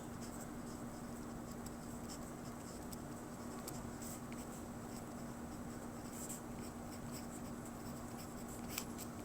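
Faint scratching of a pen or pencil writing a tree diagram by hand, soft continuous strokes over a low steady hum, with no talking.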